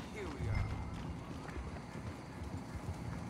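Horse hooves pounding in a gallop in the Western game Red Dead Online, a steady thudding clip-clop running through the whole stretch beneath someone talking.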